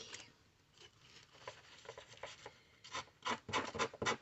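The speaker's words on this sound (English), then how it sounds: "now I'm just going to go in with my sanding block, getting rid of all those edges" Quiet rasping strokes of a sanding block rubbing the edges of a pizza box, irregular at first, then quicker and louder scrubbing passes near the end.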